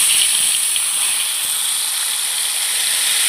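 Cumin powder and turmeric paste hit hot oil left from frying eggplant, giving a loud, continuous hissing sizzle that holds steady for a few seconds.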